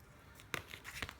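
A blade slices a slit through flexible roofing membrane during a liquid rubber roof leak repair, giving a quick close tearing rasp followed by a few short crinkling cuts.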